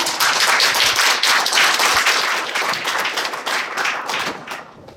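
Loud, dense applause from an audience at a town meeting welcoming the city mayor, sustained clapping at full strength that tapers slightly toward the end.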